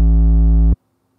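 A single loud, gritty 808 bass note run through a distortion plugin holds for under a second, thick and saturated, then cuts off abruptly into silence.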